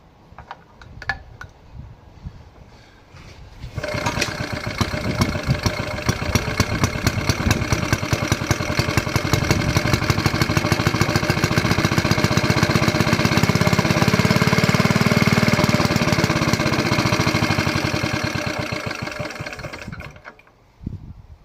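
A Petter A1 2HP stationary engine starts after a few quiet knocks and runs loud and close with a rapid, even chugging beat that swells and then fades away as it stops.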